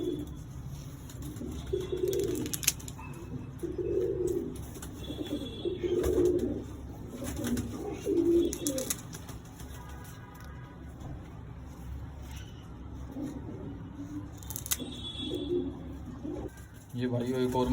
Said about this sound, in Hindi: ये सारी हमारी बाजियों में उड़ी हुई कबूतरी हैं